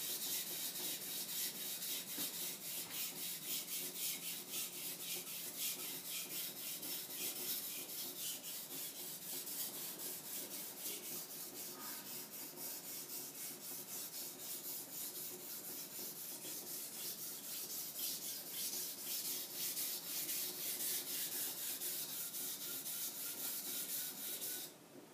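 A kitchen knife is sharpened on an Imanishi Dragon 800 whetstone, a continuous soft, gritty scraping and rubbing that carries on evenly for about twenty-five seconds with no talking.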